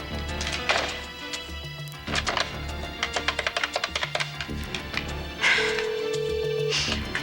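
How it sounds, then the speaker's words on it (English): A telephone rings in a domestic scene, with repeated ringing bursts and knocking and clattering sounds in between, heard fairly close. "Come on, Raquel, pick up the phone"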